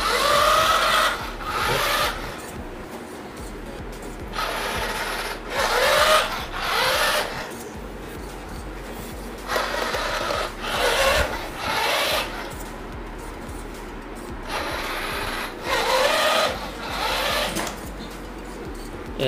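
IoT-based autonomous floor cleaner robot running with its roller and drying fan: a loud, close whirring and rubbing motor noise that surges and eases in repeated bursts of a second or two.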